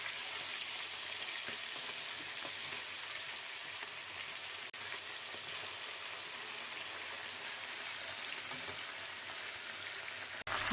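Phasa fish sizzling in mustard oil after being turned, a continuous close crackling hiss with fine spattering pops at a steady level, no one speaking.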